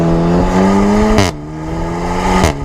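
A small 1.2-litre hot hatch engine revs up loudly and drops back twice, each rise building to a sharp rev. It is close and droning, with no talking.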